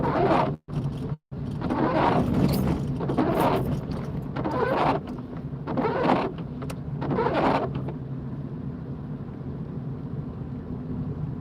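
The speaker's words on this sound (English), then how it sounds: "Apologies for the noise of the windscreen wipers." Windscreen wipers on a car driving in heavy rain sweep in a regular rhythm of swishing strokes about a second apart over a low engine and road rumble inside the cabin. The strokes stop partway through.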